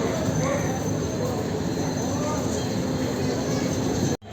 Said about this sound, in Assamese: এইটো হৈছে জলপাইগুৰি ষ্টেচন।